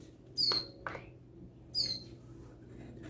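A white-rumped shama (murai batu) at a bird farm gives two short, bright whistled phrases about a second apart, fairly close, over a quiet low background hum.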